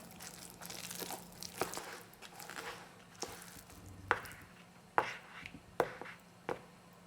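Chicken dumpling filling mixed by hand with a tablespoon of sesame oil, giving faint, irregular wet squelches and crinkly taps that sharpen into several distinct smacks toward the end.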